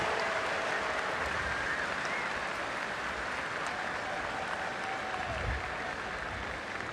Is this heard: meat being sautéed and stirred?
no